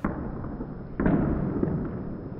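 A single cold-bore rifle shot cracks at an outdoor shooting range, followed by a sharp report and a long rumbling decay, with wind noise before and after.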